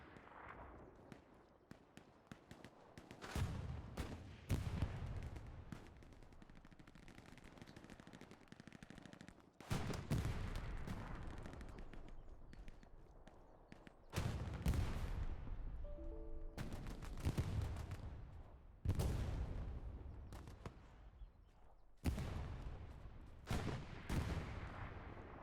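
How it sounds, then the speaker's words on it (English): Bursts of gunfire in the WWII shooter game Hell Let Loose: repeated rapid automatic volleys and sharp single shots in clusters, some loud and near, others more distant, with pauses between. "Don't know where the shots are coming from."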